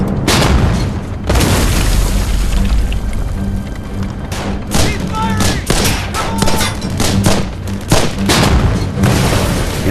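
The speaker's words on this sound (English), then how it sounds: "When it gets within 500 yards, its gun opens fire." A StuG III assault gun opening fire, with heavy booming blasts and rumbling battle noise, loud and dense throughout, some shots sharper and layered over a constant low roar.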